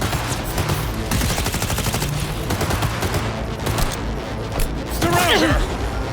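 A Cyberpunk 2077 shootout: loud rapid automatic gunfire in sustained rattling bursts, with shouting voices and combat clatter over it.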